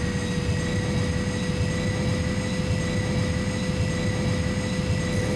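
Jet engines of an A320 Airbus in a 1993 DOS flight simulator drone steadily as the throttle is raised while taxiing, a constant low rumble with a sustained whine above it and no talking.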